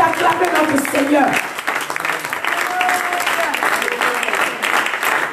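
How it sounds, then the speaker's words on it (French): A church congregation bursts into sustained, loud applause that carries on steadily through the whole stretch, a dense wash of many hands clapping close by, with a voice talking over it. "Est-ce qu'on peut continuer d'acclamer notre Seigneur?"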